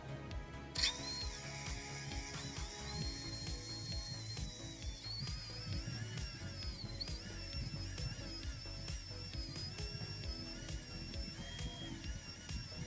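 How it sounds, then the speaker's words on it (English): A steady mechanical whir of a drill running continuously in a glassblowing studio, with a rapid rattling, ratchet-like texture and a high whine throughout. "But we got to drill first."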